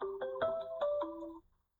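Melodic phone ringtone for an incoming call during a Hindi-English grammar lesson, a short run of bright synthetic tones in a stepping pattern, fairly clear and close, then cutting off.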